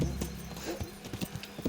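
Horse hooves clip-clop in Kingdom Come: Deliverance, a quick uneven run of hollow thuds close by, with a faint snort mixed in.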